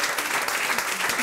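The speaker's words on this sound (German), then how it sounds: "So, euer Applaus." Audience applause at a live stage show, a steady dense wash of many hands clapping at moderate level.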